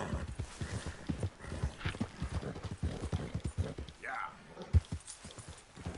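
Horse hooves clip-clop in a PS4 video game, a steady run of light, rhythmic hoof beats over game ambience, with a brief whinny-like sound near the end while someone talks over it.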